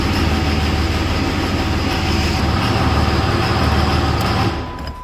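Cummins diesel engine running in a restored truck, a loud dense rumbling drone held steady close by before easing off near the end, no voices.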